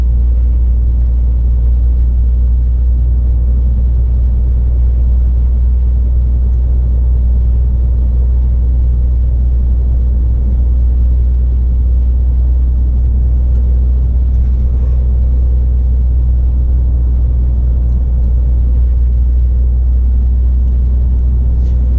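A refrigerated delivery truck driving on a road in southern France gives a steady, loud low engine rumble and road drone that holds evenly throughout, with no voices.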